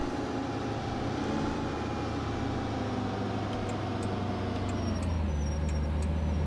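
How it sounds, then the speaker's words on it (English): A Thomas 3800 school bus in the Rigs of Rods driving game comes to a stop, its engine drone steady and loud throughout, with faint hissing brake squeals near the end and no talk. "Do you hear those brake noises? That was amazing. So realistic."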